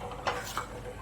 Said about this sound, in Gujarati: તો આ રીતે આપણે હલાવતા રહીશું.